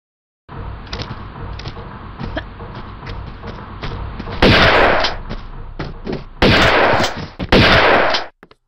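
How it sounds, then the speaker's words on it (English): Shotgun blasts from the video game Tomb Raider 2 in the Opera House level: a few loud, close, booming shots with short gaps between them, heard over a steady game background and no talking. "I wonder how a shotgun will do."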